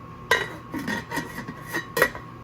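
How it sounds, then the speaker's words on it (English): Metal pot lid set onto a pot of simmering meatballs in sauce, a few close clinks and scraping rattles as it settles, with a sharper clank near the end. "So now I'll put my lid on."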